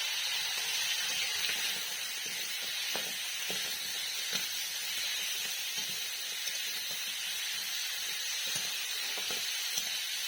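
Crab fries in hot oil in a wok, a steady loud sizzle and hiss with scattered pops and crackles, close and continuous with no talking.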